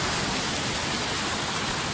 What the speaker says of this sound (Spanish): Estamos en el mar, el agua.